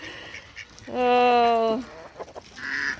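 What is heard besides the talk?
domestic ducks quacking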